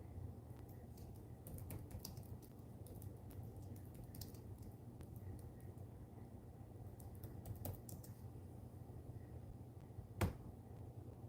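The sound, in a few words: typing on a computer keyboard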